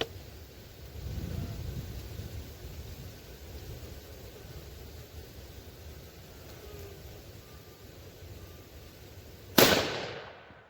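A single sharp rifle shot from a 6.5 Creedmoor with a 16.5-inch barrel cracks loudly near the end, outdoors after a long stretch of faint ambient noise and breeze.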